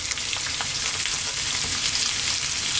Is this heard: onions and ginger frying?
yes